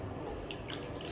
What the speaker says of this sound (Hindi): पानी से भर रही हूँ।